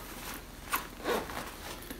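A small zipper on a backpack compartment is pulled in a few quick rasping strokes, close and fairly quiet, with short pauses between pulls.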